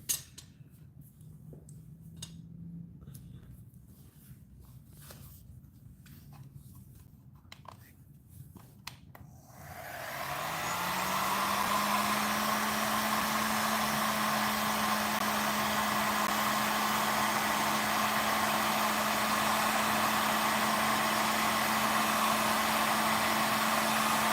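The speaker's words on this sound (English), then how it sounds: "I'm gonna hook up my heat gun. And I'm gonna shrink that tubing." After about ten seconds of quiet handling and light clinks, a heat gun switches on and holds a loud, steady whirring blow as it shrinks tubing over wiring on a Honda Shadow Phantom bobber motorcycle.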